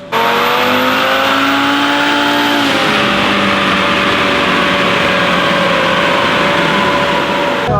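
A tuned MK7 Volkswagen GTI engine revs hard and steadily at high RPM on a dyno, loud and sustained, with a pitch shift early on before holding a droning whine.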